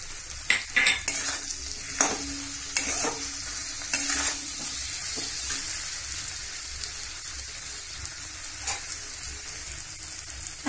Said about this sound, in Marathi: आता हे आपण हळद आणि मसाला चांगलं परतून घेऊया.